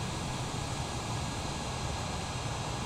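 An airplane flies in Microsoft Flight Simulator, producing a steady, dense engine and air roar. The sound holds an even level throughout and has no voices over it.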